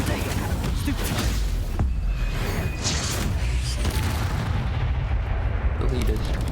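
Spells cast in the Hogwarts Legacy video game crackle and boom in a dense, continuous barrage of magical blasts, loud and close, with a player talking throughout.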